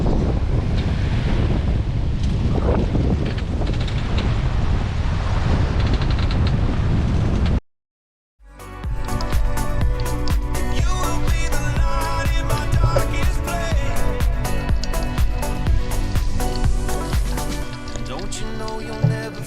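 Strong wind of about 25 knots buffets the microphone aboard a sailboat at sea, a loud continuous roar with wash of waves, then cuts to silence and gives way to music.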